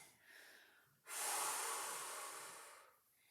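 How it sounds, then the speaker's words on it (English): A person doing a Pilates forward stretch takes a deep breath, a soft inhale followed by a long, strong airy exhale lasting about two seconds, close and alone. "take a couple really nice deep breaths"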